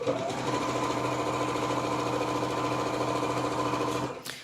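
A sewing machine runs steadily, stitching round the edge of a circular gathered cushion, its needle chattering in a fast, even rhythm close by before stopping abruptly at the end.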